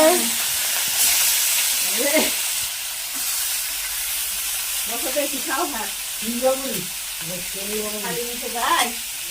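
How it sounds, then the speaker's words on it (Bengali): Fish frying in a pan in a village home kitchen gives a steady broad sizzle throughout, with a few voices talking intermittently over it. "আজকে বৌদি মাছ রান্না করছে"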